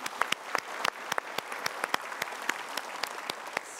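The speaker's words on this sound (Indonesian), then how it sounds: "Ya, kita berikan tepuk tangan dulu." Studio audience at an Indonesian talk show applauding, a steady wash of many hands with sharp individual claps standing out, fairly close and continuous throughout, no talking over it.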